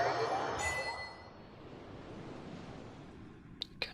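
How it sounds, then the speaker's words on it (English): Ocean surf in Genshin Impact washes in as a broad, airy rush that is loudest at the start and eases into a soft, steady wash. Two brief sharp clicks come near the end. "hear the waves already."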